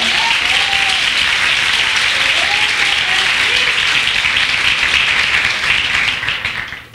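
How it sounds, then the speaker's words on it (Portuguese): A church congregation applauds in a dense, loud, sustained burst that fills the room, with a few voices calling out underneath, then fades away at the end. "Aplauda o Senhor."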